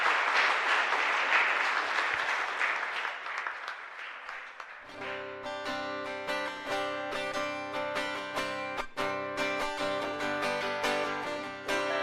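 A congregation at Mass in the Caacupemí chapel claps for several seconds, a dense, fairly distant wash of applause. Sung music with organ-like sustained tones then swells in and carries on over the last of the clapping.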